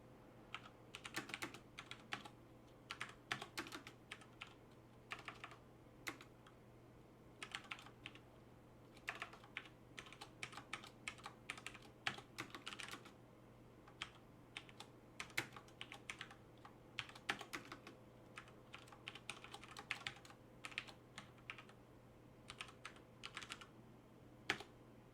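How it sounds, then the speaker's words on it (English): Someone types code on a computer keyboard in quick, irregular bursts of clicking keys, separated by short pauses, with a faint steady hum underneath and no talking. "Let me just write some junk code here."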